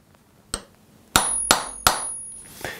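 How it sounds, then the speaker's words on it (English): A light hammer tap on a center punch marks a drilling point while fitting a Reed plane no-slop yoke; several sharp, close metallic strikes ring briefly, with short pauses between them in a quiet room. "We're just going to give it a light tap"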